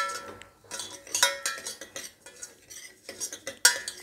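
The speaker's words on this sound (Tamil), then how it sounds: "இதை வந்து நல்லா வாசம் வர அளவுக்கு வறுத்துக்கிறோம்." Wheat rava is roasted in ghee in a pan with a spoon stirring close by, making quick scraping and clinking strokes against the metal, with a faint sizzle underneath and no voices.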